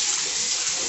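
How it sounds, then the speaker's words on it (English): Water runs steadily from a kitchen sink tap, a continuous close hiss filling the whole moment with no talk over it. "I'm going to turn that water on."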